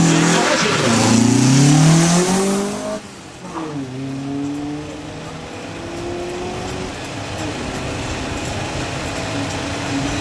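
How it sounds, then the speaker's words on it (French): A 1973 BMW 2002 Group 2 historic race car launches at a hillclimb in Saacy, its engine loud and near, climbing through the gears with clear shifts before fading as it pulls away uphill. "cette BMW 2002, groupe 2 1973, qui s'élance maintenant"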